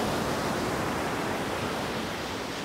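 Sea waves at a Vietnamese beach, a steady broadband wash of surf rolling in, constant and fairly loud, no talking.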